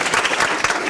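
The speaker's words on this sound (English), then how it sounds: "They deserve a round of applause" An audience applauds Georgia State graduate students at a campus event, a dense burst of clapping from a crowd lasting about a second.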